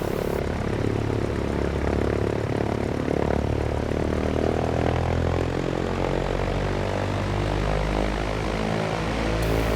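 Steady droning propeller engine of a Cessna 172 in a flight simulator, loud and continuous throughout with a constant buzzing hum and no pauses.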